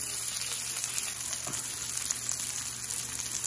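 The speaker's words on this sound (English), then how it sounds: "I'm done searing around the sides." A ribeye steak sears on a Blackstone 17-inch E-Series griddle with a constant loud, close hiss and crackle that holds steady throughout, with no voices.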